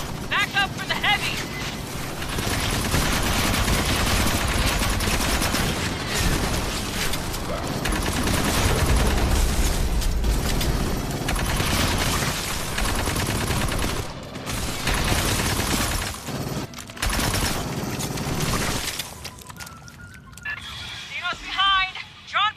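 Sustained automatic gunfire from the sci-fi shooter Aliens: Fireteam Elite, loud and dense for most of the stretch amid explosions and game effects, with a brief lull and scattered sounds near the end.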